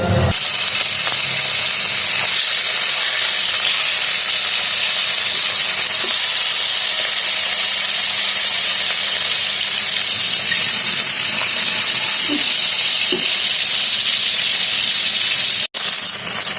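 Hilsa fish fries in hot mustard oil in a pan, a loud, continuous hissing sizzle that holds steady and close throughout, with a few faint crackles and no speech.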